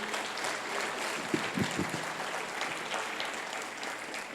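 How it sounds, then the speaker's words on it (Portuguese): A church congregation applauding during a service, a soft, distant and sustained patter of clapping at a low level, with a few louder thumps partway through. "Então dê um aplauso forte ao Senhor."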